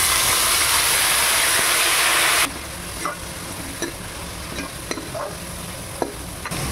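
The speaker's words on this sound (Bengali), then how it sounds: "আলুগুলোকে আমি এই তেলেই ভেজে নেবো।" Potatoes frying in hot oil, first a loud dense sizzle, then a quieter crackle with intermittent spoon scrapes and clicks against the pan.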